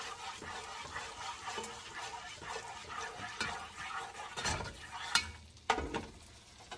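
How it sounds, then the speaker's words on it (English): Butter melting and sizzling in a pot for a one-pot Jamaican chicken soup, a faint crackling hiss broken by soft clinks and scrapes of stirring, close and quiet. "Melt that butter, melt that butter."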